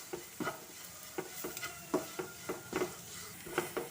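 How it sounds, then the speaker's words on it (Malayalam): A spoon stirs spice powders frying in a pan for a chicken gizzard roast, making quiet, regular scraping strokes about twice a second over a soft sizzle. "പൊടികൾ മൂക്കുന്നത് വരെ നമുക്കിത് ഇളക്കി കൊടുക്കാം"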